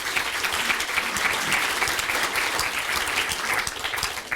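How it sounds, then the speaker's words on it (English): A high school graduation-themed crowd gives a steady round of applause, dense even clapping from a large audience filling the room, with no voices heard over it. "a big round of applause for those folks"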